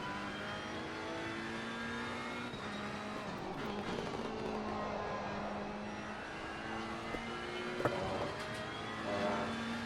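A Ferrari 488 GT3 race car at Monza in the Assetto Corsa Competizione racing game drones steadily, its engine pitch stepping and shifting as it downshifts and brakes, with fainter passing engines around it.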